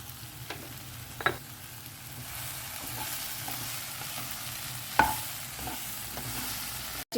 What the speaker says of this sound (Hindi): अब इसे ना 1-2 मिनट के लिए हमें अच्छे से फ्राई करके लेना है प्याज टमाटर के साथ